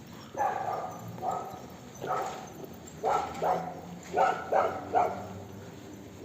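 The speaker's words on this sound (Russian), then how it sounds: "Собаки лают." Dogs bark on an evening street in Niš, Serbia, with repeated single and double barks every second or so at moderate distance over a quiet background hum.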